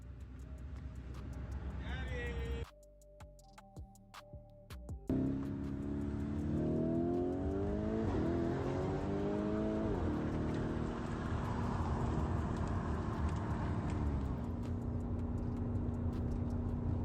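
A car's engine revs and climbs in pitch as it speeds up hard, loud and close, with a short dropout before the run, and the driver shouting over the roar.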